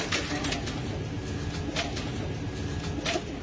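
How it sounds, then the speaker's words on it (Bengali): Domestic pigeons coo softly and repeatedly nearby over a steady background hum, with faint distant voices underneath. "রনি আর সাইফের নতুন নেশা হলো কবুতর পালা।"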